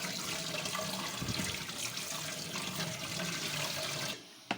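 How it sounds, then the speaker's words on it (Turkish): Food washed under plenty of running water in a home kitchen, a steady rushing stream that stops abruptly near the end, leaving a brief clatter. "Şimdi yıkıyoruz. Bol suda tertemiz."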